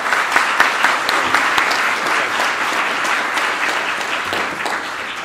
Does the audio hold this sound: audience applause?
yes